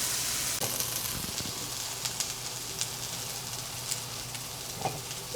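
Garlic sizzles steadily in a hot skillet of beefy cheese rice, a dense continuous frying hiss broken by occasional faint utensil clicks, close and fairly loud.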